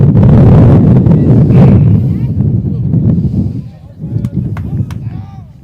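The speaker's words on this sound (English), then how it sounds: "You can hear the wind. We're just getting gusts." Strong wind buffets the microphone in loud, rumbling gusts at an outdoor baseball game, easing off toward the end, with a few sharp knocks in the background.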